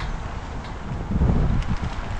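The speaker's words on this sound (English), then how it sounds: "And it's also a little windy out" Gusty wind buffets the microphone during a fixed-gear bike ride, with low rumbling bursts that swell and fade, loud and close, with no one speaking.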